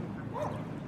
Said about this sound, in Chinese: 露娜，去跟别的小狗狗玩，快点，快点，快点，快点！